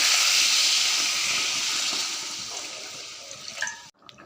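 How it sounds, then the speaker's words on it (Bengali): Water poured into a pan of village-style egg and potato curry, a broad rushing splash that slowly thins and fades before cutting off abruptly near the end. "নাড়াচাড়া দিয়ে জল অ্যাড করে নেব।"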